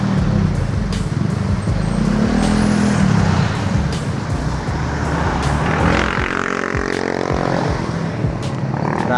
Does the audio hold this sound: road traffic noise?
yes